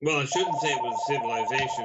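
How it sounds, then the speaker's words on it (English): A telephone in a studio gives a steady electronic tone that holds without a break under continuous close male speech. "That's the phone that you actually heard"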